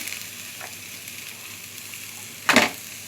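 Food dropped into hot oil on a stove at high flame gives a quiet background hiss, then a sharp, brief sizzling burst near the end; no talking.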